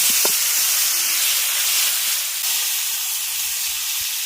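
Radish pieces fry in hot oil in a pan that was just used for pangas fish, giving off a loud, steady hiss and sizzle throughout with no talking.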